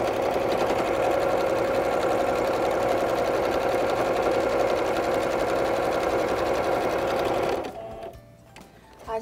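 Sewing machine stitching patchwork fabric, running in a steady, continuous whir for about seven and a half seconds before stopping, leaving a brief quiet tail.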